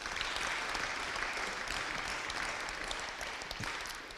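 Audience applause at a boxing tournament weigh-in and press conference, a dense sustained clapping from a crowd that fills the room evenly and fades slightly toward the end.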